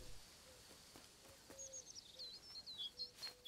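Loud bird calls ring out in the wildlife exploration game Alba: A Wildlife Adventure, a series of bright chirps and short whistled notes repeating over a quiet ambient background, close and clear with no talking.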